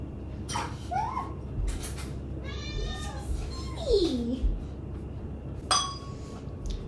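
A cat meows several times in a kitchen, a few short rising and falling calls spread over several seconds, with a light glassy clink from ice near the end.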